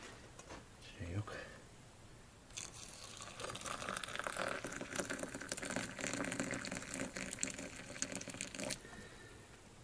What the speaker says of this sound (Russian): Чайник уже закипел. Наливаю чайку.